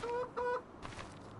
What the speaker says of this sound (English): Let's go and check on the chickens.